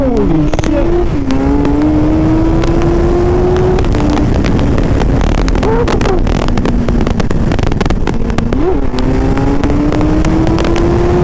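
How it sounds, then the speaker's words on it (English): A Suzuki Hayabusa motorcycle with a quick turn throttle tube accelerates hard, its engine note climbing in several rising sweeps between gear changes, loud and close, with wind buffeting throughout. "to do a little acceleration to show you the quick turn throttle tube that I installed"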